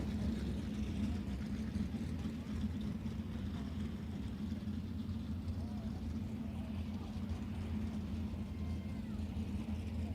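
Race cars circling the dirt track at Volusia Speedway Park during a practice session, a continuous droning engine roar heard at a distance, steady and unbroken throughout.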